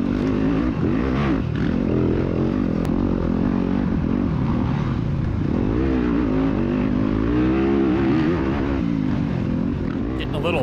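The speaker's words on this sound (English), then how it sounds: "Not sure who that was on the KTM, but Ryan Simmons in front" KTM and other dirt bikes racing at an off-road motorcycle event, engines revving and changing pitch as they pass close by, loud and continuous, with a commentator talking over the noise.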